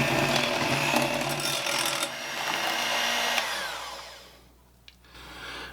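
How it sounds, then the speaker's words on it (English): Wet ingredients for an applesauce cake, including vegetable oil, being mixed together make a loud, continuous mechanical whirring that holds steady, then fades and drops away toward the end. "And then we are just going to mix this together very gently."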